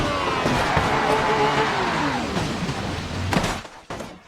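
Lamborghini hypercar in BeamNG.drive at full speed off a massive jump at about 200 mph: a loud sustained engine and tire roar with sweeping pitch, ending in sharp crash impacts near the end.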